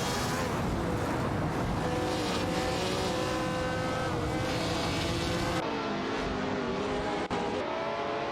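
Race cars from an AI racing video game, a Bourbon BT24 and an Eagle MK1T1G dueling closely, roar continuously with layered engine tones, loud and steady, with a brief shift in character near the end.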